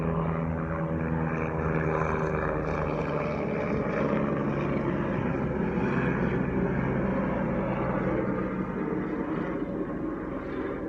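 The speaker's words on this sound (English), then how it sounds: "That's a military helicopter." A military helicopter drones steadily overhead, a continuous low rumbling hum with a churning rotor texture that holds at a constant level throughout.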